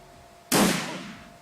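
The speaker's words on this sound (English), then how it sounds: "He gets to shoot twice?" A single sharp gunshot in the Shadowrun Returns video game, one sudden loud crack with a short decaying tail after a quiet lead-in, no voices.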